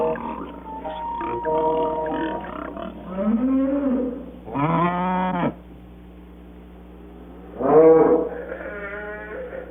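Dairy cattle on a small Wisconsin family farm low repeatedly, with several long drawn-out moos of shifting pitch, some loud and close, over a steady background hum.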